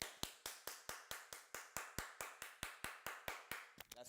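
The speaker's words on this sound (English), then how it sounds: "Big old round of applause for you guys for showing up to the live" A live streamer claps for his viewers: about seventeen crisp, evenly spaced hand claps in a steady rhythm, close and alone, ending in a brief shuffle of noise.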